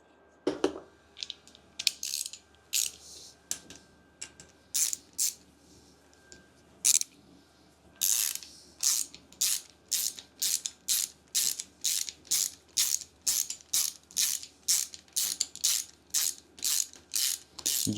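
Ratchet wrench nipping down the rocker shaft bolts on a Land Rover Defender engine, sharp close clicking: a few scattered ticks, then a long steady run of rapid, evenly spaced clicks with no talk.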